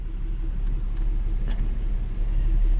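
A Nissan Xterra truck with about 225,000 miles idles steadily, a low continuous engine rumble heard close up with no speech over it.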